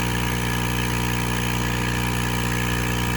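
Constant rushing air from a laser cutter's blower, a steady loud hiss over a droning machine hum with no change throughout.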